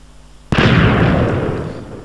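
A Mk II cannon fires a TNT-propelled shot: one sudden, loud, close blast that booms and rolls away over about a second and a half, with no voices.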